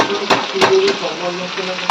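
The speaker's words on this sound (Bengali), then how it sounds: "আর এইদিকে বসিয়ে দিয়েছি আলু ভাজা" Potatoes frying in a pan: a loud, close, steady sizzle with a few soft scrapes of a spatula stirring them.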